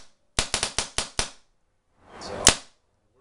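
A cheap blowback paintball gun fires six loud, sharp cracks in quick succession, close up, then a pause before a hissing burst ending in a single sharp snap.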